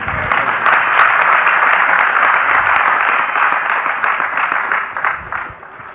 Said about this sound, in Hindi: अब ये मान लो तालियां अब 10 मिनट तक बजाते रहेंगे